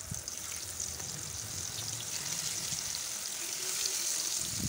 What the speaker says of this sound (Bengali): তেলটা ভালো মতো গরম হয়ে এলে এর মধ্যে আমি মাছের টুকরোগুলো এক এক করে ভেজে নেব।